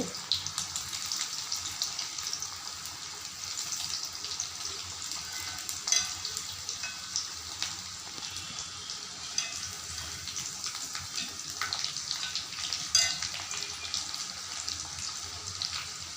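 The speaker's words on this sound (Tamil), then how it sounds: "ரத்தசாலிய அரிசி பக்கோடா இப்போ வெந்துட்டுருக்குது" Rathasali rice pakoda deep-frying in hot oil, a dense, continuous bubbling sizzle with occasional louder crackles and pops, close by.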